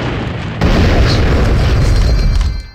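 A grenade blast in the shooter game AVA booms loud and close, then a rumbling roar sustains for about two seconds before fading.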